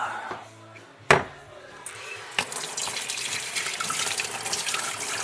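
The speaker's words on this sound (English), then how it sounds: "So I'm going to put some water in that" Water from a tap in a dirty shop sink runs into a container used while fitting engine valves, starting after a few sharp clanks and knocks and building into a steady splashing stream, close by, with no speech.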